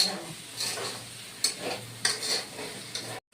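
Potatoes and raw green banana cooking down with spices and tomato paste in a pan, with a steady low sizzle and intermittent scraping stirs, close and alone before a brief silence at the end.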